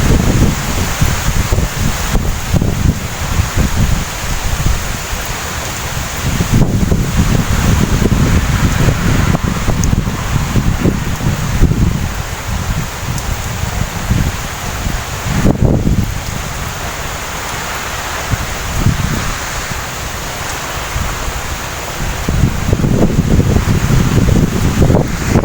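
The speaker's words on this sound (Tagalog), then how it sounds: "Low pressure parang yan, pero napakalakas na ng hangin." Strong wind from a low pressure system roars through trees and coconut palms in Borongan City, Eastern Samar, a loud continuous gusting rush with thrashing leaves, surging and easing over the whole stretch without any voices.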